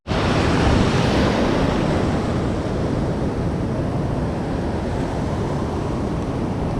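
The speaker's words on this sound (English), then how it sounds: "Oh, here comes the water." Ocean waves wash up on a beach in a steady loud rush of surf, with wind buffeting the microphone and no talking.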